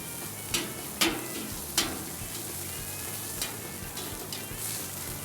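Bacon frying in a hot pan while burgers are being cooked, giving a steady close sizzle with a few sharp crackles and pops scattered through it, with no talking.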